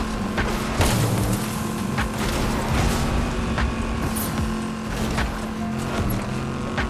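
A vehicle engine in Fortnite hums steadily and loudly throughout, a continuous low drone with a few muffled thuds and bumps over it, no voices.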